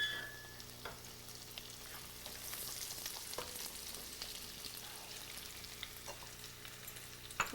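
Chicken with garlic fries in a pan, giving a soft, continuous sizzle with faint crackles and occasional light stirring clicks, low in level and without any voices.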